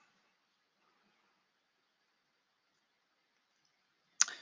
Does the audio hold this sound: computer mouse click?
yes